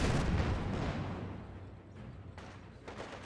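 Mortar fire on a Company of Heroes 2 battlefield: heavy booming impacts and rolling rumble, loudest at the start, easing off, then a few sharper thumps near the end.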